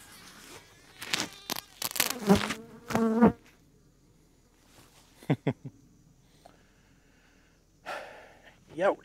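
Bees buzzing around a person cutting trees, with a close buzzing drone under several short bursts of speech and gasps, then quieter whining passes near the end.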